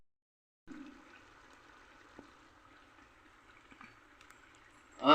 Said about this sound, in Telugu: ఇప్పుడు మట్టుకు రెండు గ్లాసులు నీళ్ళు పోతున్నా